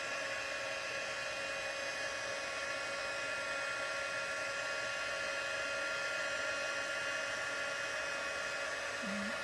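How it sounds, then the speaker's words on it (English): A handheld craft heat tool runs on high to melt embossing powder on a marbled card, giving a steady, close blowing whir that holds evenly throughout. "I'm going to turn my heat tool on high"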